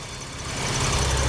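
A 1983 Porsche 944 engine runs at idle while it is running a little hot, a steady close rumble with a constant low throb that grows slightly louder, and no talking.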